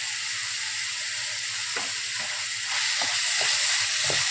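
Onions sautéing in a hot pan for a kada gravy give a loud, steady sizzle and hiss close by, with a few soft stirring knocks in the second half and no speech.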